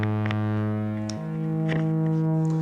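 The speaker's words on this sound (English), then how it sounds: "I'm going to add in some space reverb to really give it some room to breathe in." A sustained modular synthesizer tone holds a chord, shifting pitch midway, with a washy, spacious reverb tail and faint clicky transients.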